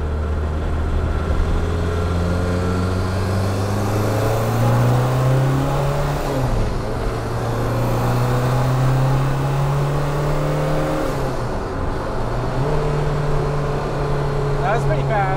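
Turbocharged car accelerating hard in third gear, a loud droning engine note climbing steadily in pitch with a brief dip at each shift, heard from inside the cabin alongside some talk.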